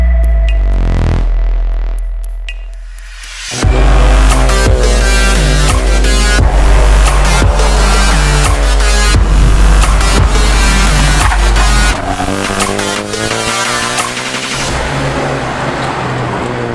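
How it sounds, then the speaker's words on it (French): Renault Clio junior rallycross car out on its first laps, engine revving hard and loud up close with rising and falling throttle bursts and gear changes, then easing off toward the end. "Il va participer au championnat de France de rallycross junior à bord de sa Clio et il effectue aujourd'hui ses premiers tours de roue"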